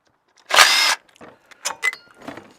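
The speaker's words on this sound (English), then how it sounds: "We're going to go ahead and get these 3 bolts off of the gear," A power tool whirs in one short loud burst while backing out bolts on a starter gear, followed by a few small metallic clicks and rattles of the loosened parts.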